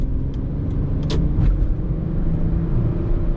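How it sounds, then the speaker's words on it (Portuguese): A Ford Mondeo V6 with the Duratec engine, a 1990s car, hums along a stretch of road. Its engine rumble is steady and close, with road noise beneath it and no talk. "O som do V6 é mais instigante"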